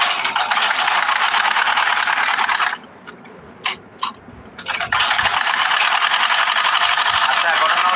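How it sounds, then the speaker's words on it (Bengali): An electric sewing machine stitches trouser fabric in a steady, loud whirring run. It stops for about two seconds, with a few short bursts in the gap, then resumes at the same even speed. "এখন আমি এটাকে চতুর্দিকে একটা সেলাই দিয়ে আটকায় দিই।"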